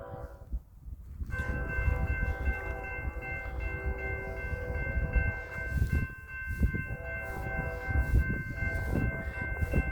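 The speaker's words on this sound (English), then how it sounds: "That train was chugging, Jack." A BNSF eastbound intermodal freight train led by ES44DC and ES44AC locomotives approaches on the Marceline Subdivision, giving a steady, distant-to-nearing rumble with sustained horn-like tones over a continuous low roar.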